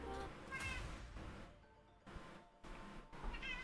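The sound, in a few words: cats meowing after waking up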